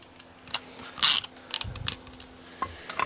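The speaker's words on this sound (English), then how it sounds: "Let me grab my spark plug socket." A ratchet fitted with a spark plug socket works on a spark plug with a stripped or cross-threaded thread, giving a few short, close mechanical clicks and rasps with brief pauses between them.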